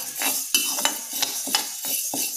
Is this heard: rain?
no